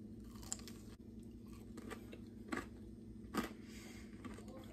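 Close, quiet crunching of breaded fried pickles being chewed, a few distinct crisp bites over soft mouth sounds, no talking.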